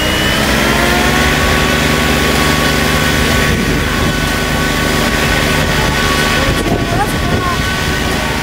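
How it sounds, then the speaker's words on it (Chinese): A 5G relief drone lifts off for a maritime rescue supply drop, giving a loud, steady motor and propeller drone with a constant whine throughout. "现在我们看到的是无人机正在起飞的过程"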